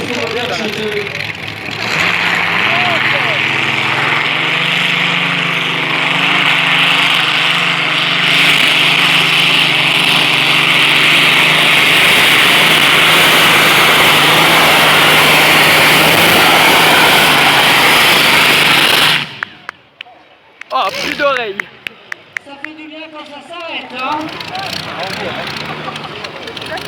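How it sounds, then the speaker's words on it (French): A pulling tractor's gas-fuelled, mechanically injected engine at a tractor pulling event roars loud and close for about twenty seconds, then cuts off abruptly, leaving sputters and people talking. "tracteur qui tourne à la gaz. C'est l'injection mécanique."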